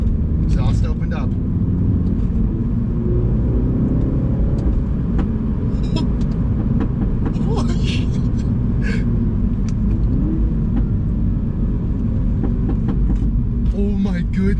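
A Mini JCW Pro fitted with a loud tuning exhaust, valves open in sport mode, gives a heavy, continuous engine rumble from close by with sharp crackling pops scattered through it, while people talk now and then.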